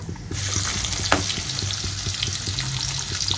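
Chopped onion fries in hot oil with tempered spices in a pan for winter arhar dal, a continuous close sizzle and crackle with light stirring scrapes, loud and steady throughout.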